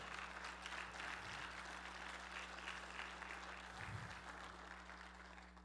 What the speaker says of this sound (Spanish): Vamos a darle el mejor aplauso al Rey de Gloria